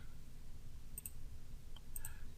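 A computer mouse clicks a few times, small sharp ticks in two quick pairs over a steady low background hum, with no voices.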